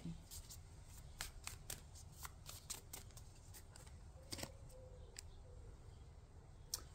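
Tarot cards being shuffled by hand in quick riffling bursts, soft and close, with repeated sharp snaps of the deck over a low steady background and no talking.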